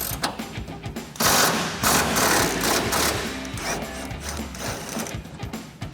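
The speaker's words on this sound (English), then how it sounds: "We're gonna grab a 21 millimeter socket on our impact and a 21 millimeter wrench and get this bottom bolt out" A mechanical ratcheting tool works a 21 mm bolt free from the bottom leaf spring shackle of a Silverado 1500's rear axle, giving rapid buzzing clatter in loud sustained bursts, close by.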